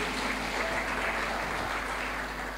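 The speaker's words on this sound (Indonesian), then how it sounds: "Tepuk tangan untuk Tuhan kita." Congregation applause during a Sunday church sermon, a brief, steady wash of clapping heard at moderate level with a low hum underneath.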